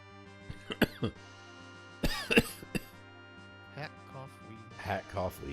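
A person coughs and clears their throat in a few short, close bursts, quiet overall, with soft talking before and between them.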